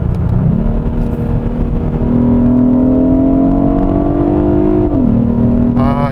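A 2021 Hyundai Sonata N Line with an N DCT gearbox in Sport Plus mode climbs steadily in revs under N Power Shift, then drops sharply at an upshift and starts rising again. The engine drone is loud and continuous from inside the car, with no talking.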